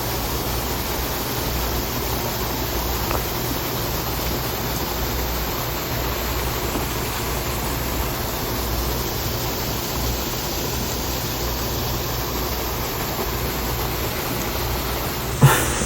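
Steady broadband rush of a waterfall tumbling beside a rock in a woodland garden, a constant, even roar with no voices and only a brief thump at the very end.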